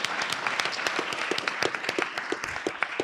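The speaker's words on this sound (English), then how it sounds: "So please give them a round of applause." Applause from a conference audience at a Vietnam War anniversary gathering, with many hands clapping in a brisk, steady patter and a few sharper claps standing out.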